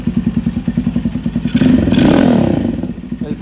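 A modified Screamer 250 motorcycle with a custom full-system exhaust idles with a deep, pulsing exhaust, then gets a short rev that swells louder and drops back to the chugging idle, up close.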